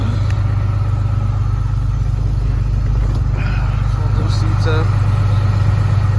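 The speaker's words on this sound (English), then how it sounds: "it's going into high idle because it's too cold" A 2011 Ram 3500 with a 6.7 diesel engine and 186k miles sits at high idle on a cold day, a loud steady low rumble running throughout while someone speaks nearby.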